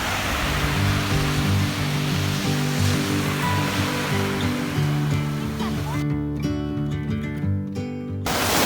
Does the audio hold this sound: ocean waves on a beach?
yes